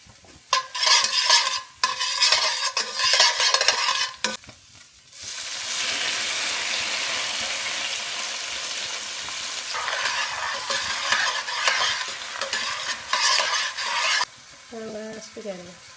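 Garlic cooking in olive oil in a pan for spaghetti aglio e olio, crackling sizzle broken by scraping stirs, with a long steady hiss in the middle and utensil clinks near the end.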